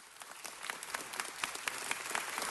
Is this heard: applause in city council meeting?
yes